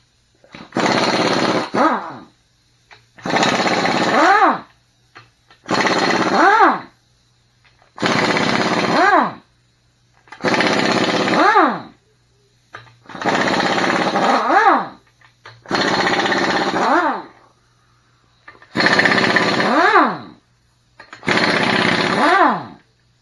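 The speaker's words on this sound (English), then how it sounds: "A chrome socket on an impact." An impact wrench with a chrome socket removes bolts from a 460 big block engine, firing nine loud, close hammering bursts of about a second each separated by short pauses, with a rising whine as each burst ends.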